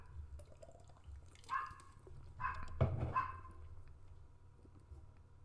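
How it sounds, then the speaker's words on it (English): Neighbours' dogs barking outside a home, a few distant, muffled barks scattered over a low steady hum, with no talking. "Did you know that my neighbors have dogs?"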